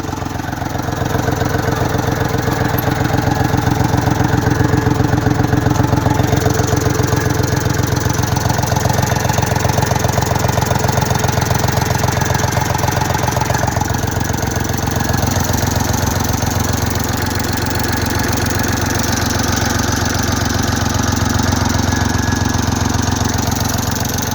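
A 2008 Kubota L3408 tractor with an aftermarket racing exhaust idles and runs steadily, a continuous close rumbling engine note with slight surges, heard alone without talk.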